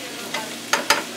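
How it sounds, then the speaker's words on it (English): Cabbage sautéing with bacon and its grease in a pan, a steady close sizzle broken by three sharp scraping stirs near the end. "Now we've got our bacon and our grease all incorporated in with the cabbage and the cabbage is saute."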